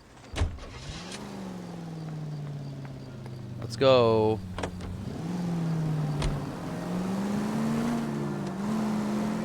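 Car engine from the L.A. Noire video game, a vintage sedan humming steadily as it drives, with a revving rise partway through and occasional knocks, while someone speaks briefly over it.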